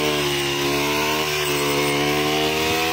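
A small handheld rice-cutting machine runs with a constant high-pitched, buzzing motor drone while harvesting rice in a paddy field, loud and steady throughout.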